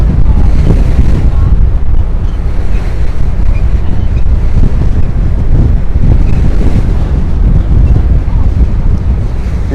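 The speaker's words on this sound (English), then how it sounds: "Serious wind." Strong wind buffeting the microphone outdoors in New York City, a loud continuous roaring rumble with no letup.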